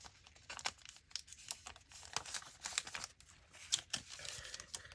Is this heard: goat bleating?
no